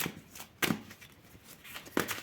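Tarot cards being shuffled by hand, quiet riffling with a couple of sharper slaps as the deck is squared, close and brief.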